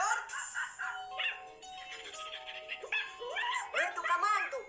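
Cartoon dogs from a 1984 Soviet animated film yip, whimper and bark in a busy, overlapping chorus, several voices crowding together at close range, with no talk over them.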